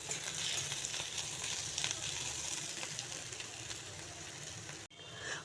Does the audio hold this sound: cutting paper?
no